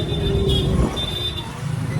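An auto rickshaw's small engine hums along during a ride in Vrindavan, with road noise and a faint whine, no clear talk.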